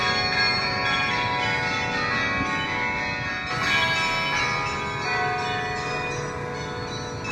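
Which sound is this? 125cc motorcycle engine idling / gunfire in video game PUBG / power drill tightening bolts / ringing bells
ringing bells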